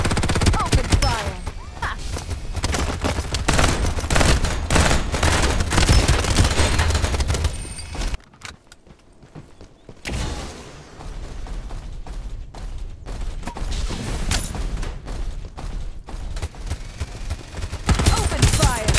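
Dense rapid gunfire from the mobile shooter game Farlight 84 rattles almost nonstop, loud and close, pausing briefly before the bursts resume, mixed with game effects and a shouted voice.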